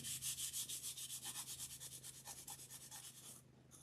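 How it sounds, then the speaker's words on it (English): Pastel is rubbed into the edge of a gingerbread wreath in quick, rhythmic strokes, about six per second. The soft, close brushing fades slightly, then stops near the end. "And then I'm going to go in and rub it in."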